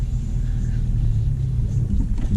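A manual Dodge Challenger engine stalling while pulling off, a low steady rumble that shudders and wavers near the end, close and alone.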